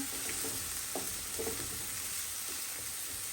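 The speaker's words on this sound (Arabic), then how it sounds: "وغندير معاها شويه الصدر ديال الدجاج وغندير معاها شويه الشابيني. هاي كتشحر." Chicken breast and mushrooms sizzle in a hot pan for risotto, a steady close frying hiss with occasional soft stirring clicks and no talking.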